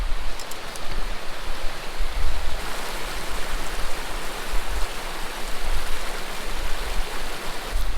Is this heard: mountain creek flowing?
yes